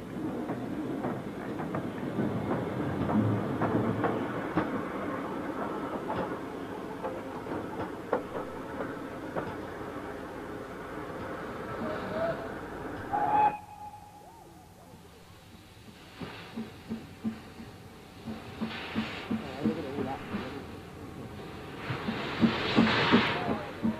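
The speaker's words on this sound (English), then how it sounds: "Brunswick green engine streaking through the Cornish countryside with a rake of chocolate and cream carriages" A Brunswick green Castle class steam locomotive hauls a rake of chocolate and cream carriages through the Cornish countryside on the main line, a loud passing rumble with rhythmic clatter that drops away midway, then builds again.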